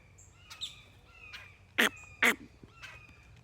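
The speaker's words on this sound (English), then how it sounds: "Geez, we got birds everywhere. See that grackle?" Birds calling outdoors, including a grackle, with several sharp chirps and two loud harsh calls close by over a quiet background.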